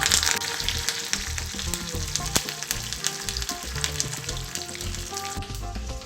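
Tempering seeds, garlic, dried red chillies and curry leaves frying in hot oil in a pan for a tomato-cucumber chutney, a steady close crackling sizzle with scattered pops, continuous and alone.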